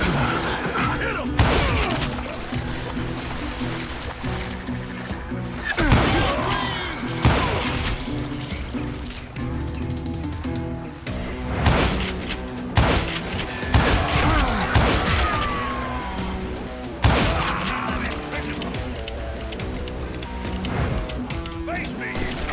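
Gunshots in the western shooter Call of Juarez: Gunslinger: repeated loud, sharp bangs in irregular bursts with shattering crashes and thuds, mixed with game music and shouting voices.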